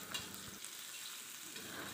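Spice paste stir-frying in a pan, a soft, even sizzle heard close and alone for a couple of seconds.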